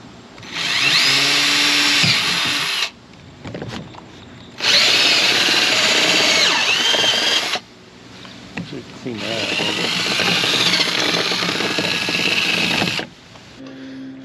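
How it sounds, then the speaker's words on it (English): A power drill whirs in three long bursts separated by short pauses, loud and close, with brief clatter and talk in the gaps, while drilling out a Pontiac GTO intake part outdoors. "So I'm going to go outside, drill this out"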